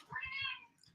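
A cat meows once, close and clear, with a drawn-out, rising-then-falling cry and faint low thumps beneath it.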